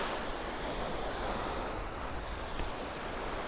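Surf washes steadily onto a secluded white sand beach on Siquijor island, a constant broadband rush of waves with light wind noise and no voices.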